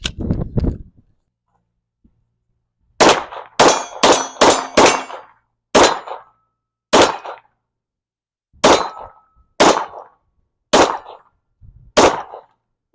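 Pistol shots ring off a steel target and its chain, each bang followed by a sharp metallic clang, fired in an irregular string of about a dozen spaced hits outdoors.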